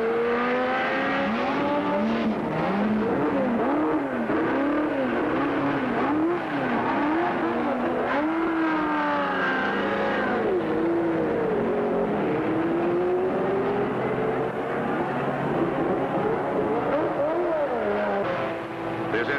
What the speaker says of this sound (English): with the roar of the powerful engines